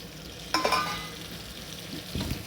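Green chillies and chopped tomatoes hit a hot pan for a hotel-style paneer biryani masala, giving a sharp burst of sizzling followed by quieter frying and a brief second stir, with no talking.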